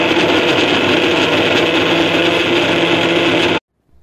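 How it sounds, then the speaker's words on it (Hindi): Roasted peanuts whir in a mixer grinder while being ground into homemade peanut butter, a loud steady close motor roar running for about three and a half seconds before cutting off abruptly into silence. "अभी और इसे थोड़ा ग्राइंड करते हैं।"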